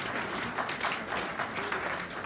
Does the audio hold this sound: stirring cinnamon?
no